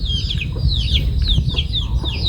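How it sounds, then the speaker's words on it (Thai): Chickens at a rural Thai home, with short clucking calls and bird chirps repeating over a steady low rumble of outdoor background noise. "เสียงกบเสียงไก่ห้อง"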